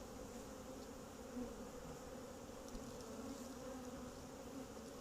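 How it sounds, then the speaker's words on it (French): Honey bees hum in a steady, dense drone around a hive box, close and continuous at low level with no speech. "Ah, il faut des abeilles hein"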